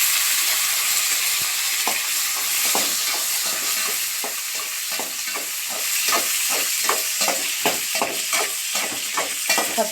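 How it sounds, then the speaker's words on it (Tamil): Brinjal frying and being stirred in a pan for Nagercoil theeyal, with a continuous hiss of sizzling oil and a series of rhythmic scraping strokes from the spoon, close and clear, no talking. "இப்போ கத்திரிக்காயை மட்டும் போட்டு 2 கிண்டிட்டு அதுக்கப்புறம் நம்ம மசாலாலாம்"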